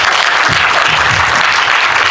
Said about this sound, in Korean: 이 자리에서 한번 박수를 좀 드리죠.